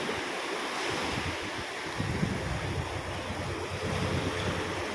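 Strong surf on Jumeirah Beach, Dubai, roars continuously as a broad wash of breaking waves, with gusty wind buffeting the microphone throughout and no voices.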